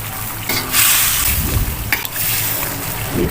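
Fried tofu and bean sprouts being stir-fried in a pan for a budget sautéed dish with Chinese celery, giving a steady close sizzle broken by a few scraping stirs, with no talking.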